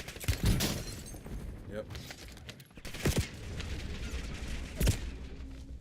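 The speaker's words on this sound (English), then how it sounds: "Hostile shooter. Visual on enemy. Under fire." Gunfire in a video game shooter, a few sharp isolated shots and short bursts spaced irregularly against busy game background noise, with someone talking briefly.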